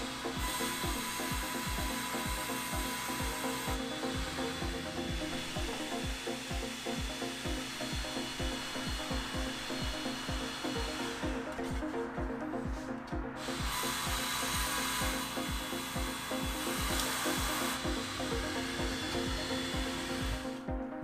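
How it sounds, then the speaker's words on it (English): A laser cutter cuts holes for a carrying handle in a LEGO Bluetooth speaker frame, giving a steady mechanical hum and buzz with rapid rhythmic ticking from the moving head, pausing briefly midway before resuming. "I am now setting the laser to cut out the holes for the carrying handle"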